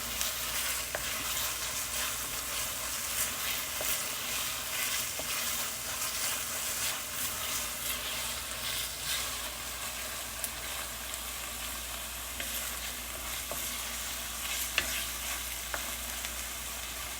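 Asparagus frying in a pot gives a steady, close sizzle with faint stirring scrapes throughout. No one speaks.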